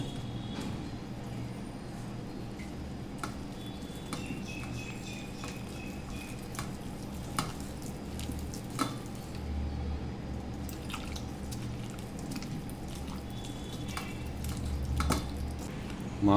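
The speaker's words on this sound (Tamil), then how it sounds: "இப்போ தேவையான அளவுக்கு தண்ணி சேர்த்து இதை நம்ம கரைச்சிக்கலாம்" Wheat flour being whisked into a batter with water for sweet egg paniyaram, steady soft wet squishing and dripping sounds, close and continuous with no speech.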